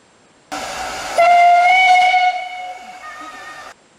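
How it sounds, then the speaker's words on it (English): A steam locomotive whistle sounds loud and close, a rush of hissing steam followed by a sustained tonal blast that shifts pitch before cutting off. "we hear a short loco whistle from the shed"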